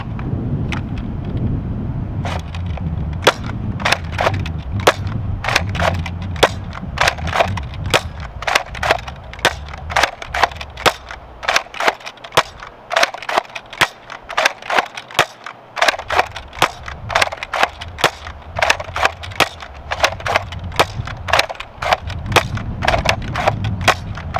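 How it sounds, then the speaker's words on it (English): Jet Blaster CEDA toy foam blaster fired repeatedly outdoors, a long run of sharp, evenly spaced snapping shots over steady wind noise, close and fairly loud. "we're going to do a quick outdoor firing demonstration"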